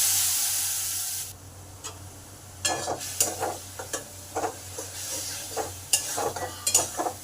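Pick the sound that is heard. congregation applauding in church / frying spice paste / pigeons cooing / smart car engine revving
frying spice paste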